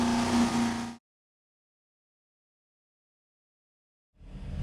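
A naturally aspirated 6.0L LS iron-block V8 on an engine dyno gives a loud, dense roar for about a second, then cuts to dead silence before the engine sound swells back in near the end.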